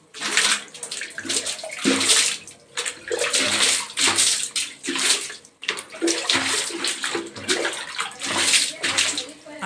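Water splashes and sloshes in repeated bursts while the floor beneath a table and cart is being washed, loud and close, with brief pauses between pours.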